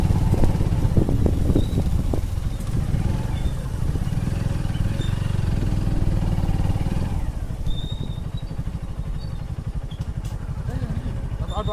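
A motorcycle and a scooter ride toward a forest in West Bengal, their engines a loud close rumble that shifts and settles toward idling, with people talking over it throughout.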